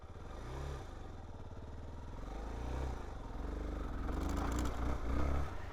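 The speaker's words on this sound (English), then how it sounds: "the bike was kind of making a bog sort of a sound" Suzuki DR-Z4S motorcycle engine bogging under traction control in a crowded stop, a steady droning run with low pulsing surges and slight dips, close and continuous throughout.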